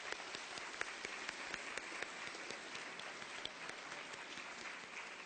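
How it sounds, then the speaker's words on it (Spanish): Warm audience applause for a competition jury, a dense even patter of many hands clapping at moderate distance, steady throughout with a few sharper individual claps standing out and no talk over it. "Les agradecemos mucho, también con un caluroso aplauso."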